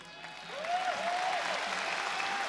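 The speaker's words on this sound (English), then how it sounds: "The applause for the announcement" Arena crowd at a PRIDE FC mixed martial arts event applauding an announcement of the promotion's 10th anniversary, a broad, steady roar of clapping that builds in and holds, with a faint voice gliding over it.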